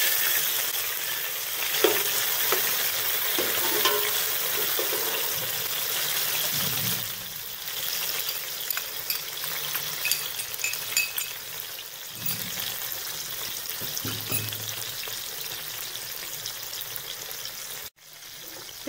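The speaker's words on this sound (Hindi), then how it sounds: "ऑयल गरम हो चुका है, प्याज शामिल कर दें।" Onions sizzle steadily in hot cooking oil for an aloo matar pulao, a loud continuous frying hiss with occasional stirring scrapes and brief bubbling shifts, no talking.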